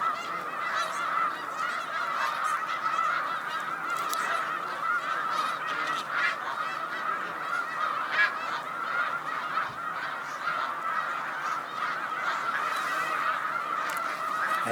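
A large flock of snow geese on Cayuga Lake, hundreds of nasal honks overlapping into a constant, clamorous chorus that never lets up, heard from a moderate distance.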